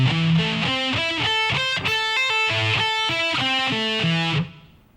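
Distorted electric guitar lick, played at slow tempo: a steady run of separate picked and pulled-off notes with sustained gritty tone, close and loud, ending abruptly near the close.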